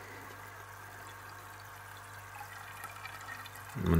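Water from a homemade start-stop overflow begins spilling over the edge: a low steady hum for most of the stretch, then a short rush of running water swells up near the end.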